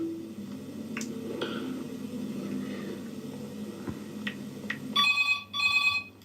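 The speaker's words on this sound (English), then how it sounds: "He gets the phones ringing." An in-game telephone in a video game rings in two bright, close bursts near the end, after a stretch of low ambient hum with a few faint clicks.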